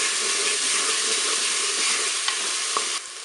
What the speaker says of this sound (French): Je vais pouvoir faire revenir mes morceaux d'escalope de dinde